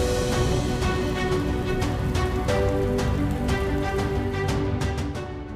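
Heavy monsoon rain falls over Patan in Gujarat, a loud, unbroken roar of drops hammering hard surfaces close by, with scattered sharper splats, steady throughout before easing slightly at the end.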